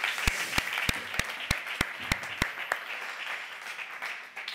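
A live show audience applauds, with broad crowd clapping under a few sharp, loud single claps near the microphone, fading out after a few seconds.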